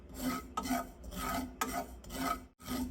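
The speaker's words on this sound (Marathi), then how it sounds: "यात आपण एक चमच्याभर खसखस घालूया खसखस ही ताबडतोब भाजली जाते" A spoonful of poppy seeds dry-roasting in a pan, heard as close, repeated raspy scraping strokes about every half second as they are stirred.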